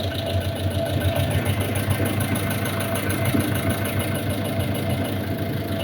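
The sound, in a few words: Tata X2 engine revving as the accelerator is pressed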